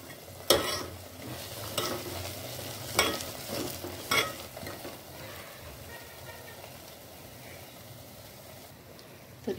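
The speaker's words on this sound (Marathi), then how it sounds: "तर इथे हा मसाला छान भाजलेला आहे." Masala frying in oil for a dried mackerel chutney, a steady close sizzle with a few sharp stirring scrapes and clatters in the first few seconds, then a quieter continuous frying hiss with no talking.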